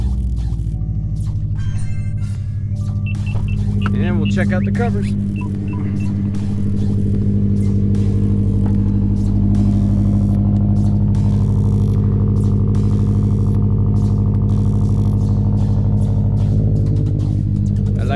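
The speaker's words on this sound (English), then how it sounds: "I'm just going to start the car up so you can hear how it sounds" A Subaru STI engine turns over and settles into a steady, loud low idle, with a brief spoken remark early on.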